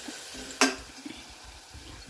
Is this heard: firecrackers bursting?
no